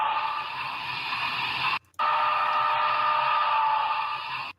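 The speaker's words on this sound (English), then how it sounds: "An alternate whistle that everybody asked me to do on Broadway Limited locomotives on Function 20." An alternate whistle from a Broadway Limited HO scale model steam locomotive sounds as a sustained, hissy tone, broken by one short gap before continuing steadily, close and fairly loud with no voices.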